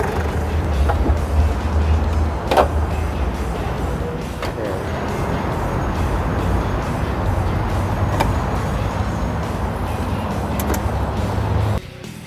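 A 2006 Ford Ranger Open Cab engine runs smoothly at a steady idle, close and even, with no rattles or knocks, until it cuts off abruptly near the end.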